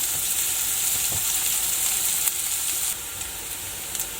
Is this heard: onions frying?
yes